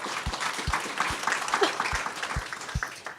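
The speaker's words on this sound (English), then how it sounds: "give yourselves a round of applause for that." A crowd applauds with steady, scattered clapping, moderately loud, while a few voices murmur underneath.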